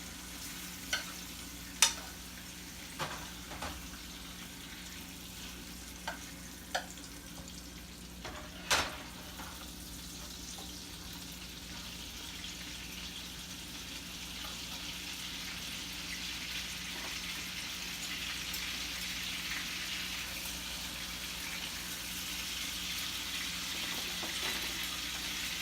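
Steak sizzling steadily in a hot pan while being basted, a continuous crackling fry with a few sharp clicks and taps early on, the sizzle swelling slightly louder toward the end.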